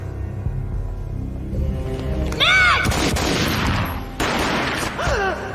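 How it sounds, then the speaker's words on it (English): A gunshot booms in the Max Payne film, a sharp blast with a rumbling tail amid a tense action scene, followed by a second burst and whooshing effects. "A gunshot boomed and she fell down in slow motion."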